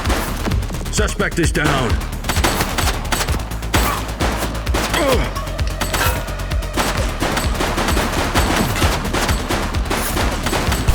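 Rapid bursts of gunfire from a police video game crackle through a dense, busy mix of game audio, with shots repeating across the whole stretch and a voice speaking briefly over them.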